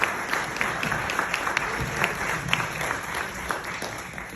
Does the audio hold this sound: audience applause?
yes